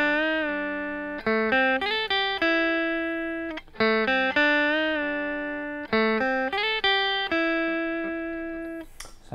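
Electric guitar plays a melody, clean single notes ringing out in short phrases with long sustained tones decaying between them, played solo without voices.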